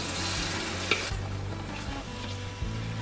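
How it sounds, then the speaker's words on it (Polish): Puree of onion, garlic, ginger and cashews frying with spices for an Indian tikka masala, a loud continuous sizzle with a few soft stirring scrapes, close up and without speech. "Wszystko teraz będę przesmażać przez minutę"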